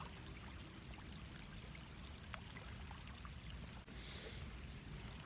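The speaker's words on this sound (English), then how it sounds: "Water raining on the lake." Rain falling steadily onto a lake, a dense continuous hiss and patter of drops on the water surface, close and even throughout with no talking.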